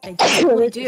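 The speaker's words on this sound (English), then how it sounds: "Bless you. It's been 10 minutes." A single sharp, close sneeze bursts out during a Super Mario Maker 2 Expert Mode speedrun stream; a person speaks briefly right after it.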